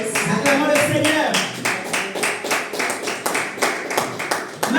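A church congregation claps in steady rhythmic unison to acclaim the Lord, about two claps per second, with voices singing or speaking over the clapping.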